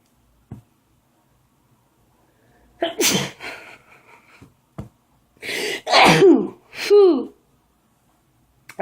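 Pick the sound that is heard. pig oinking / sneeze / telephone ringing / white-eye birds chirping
sneeze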